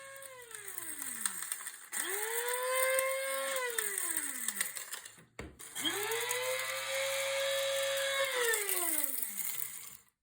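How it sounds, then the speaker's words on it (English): Three pulses of a blade grinder chop dried turkey tail mushrooms. Each burst whines up to a high spin, holds, then winds down, with a short gap and a clatter between bursts. "Pulsing the blade does a better job of grinding the mushrooms and keeps the motor cooler."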